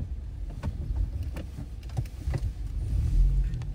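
Morning traffic in Manchester, United Kingdom, heard from inside a car: a low steady rumble of engines and road noise, with scattered brief knocks and a swelling pass of a nearby vehicle toward the end.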